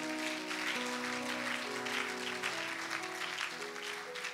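A church congregation claps together for the Lord in a long, dense round of applause, fairly distant and steady, with a sustained musical tone running underneath.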